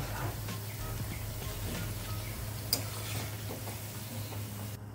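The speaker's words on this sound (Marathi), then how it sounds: "त्याच प्रकारे सगळे तळून घेऊ। मध्यम गॅसवरती आपल्याला तळायचे" Pea falafel frying in oil over medium heat, a soft continuous bubbling sizzle with faint stirring and one brief clink, steady and moderately quiet throughout.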